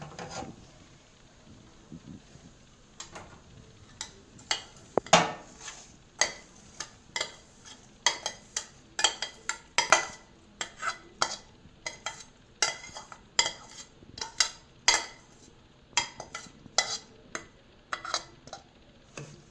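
Roasted semolina (rava) for a milk rava sweet is scraped and spooned from a pan into another vessel at home. Close, irregular metallic clinks and taps repeat throughout, with no talking.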